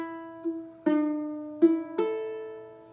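Ukulele strummed badly out of tune, a few sparse, gentle strums ringing with sour, clashing notes, close and quiet with no talking.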